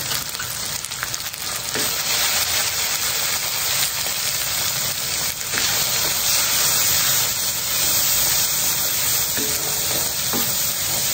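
Loud, steady sizzling of date-spice powder paste frying in hot oil, with scraping and stirring noises throughout and no talking.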